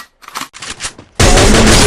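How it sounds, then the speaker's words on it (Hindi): An M60 machine gun fires in the Free Fire battle royale game: a few short rattling bursts give way to a loud, dense, continuous roar of automatic fire that fills the end. "M60 तो बड़ी तबाही है ना, बस रिकॉइल बहुत ज्यादा कर दे"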